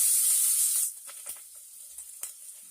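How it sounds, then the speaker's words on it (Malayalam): Chopped onion hits hot coconut oil for an egg kurma, giving a loud, close sizzle that drops away after under a second, leaving a quieter hiss with a few faint crackles and pops. "ചൂടായ വെളിച്ചെണ്ണയിൽ മുറിച്ച ഉള്ളി അതിലേക്ക് ആഡ് ചെയ്യുക."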